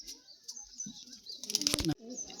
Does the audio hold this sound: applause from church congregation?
no